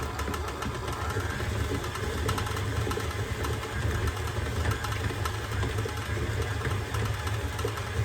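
Electric mixer beating gluten-free sugar cookie dough with egg and salt, a continuous steady motor whir and low rattling hum, close and even with no pauses.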